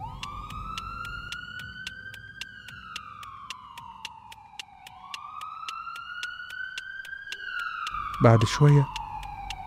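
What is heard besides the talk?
police and ambulance sirens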